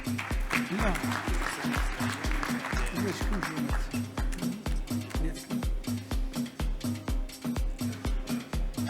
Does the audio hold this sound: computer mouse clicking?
no